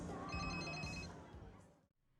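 A telephone rings in a scene from the 2021 film Nobody, a short trilling bell burst that is quiet and sits under other film sound before it cuts off.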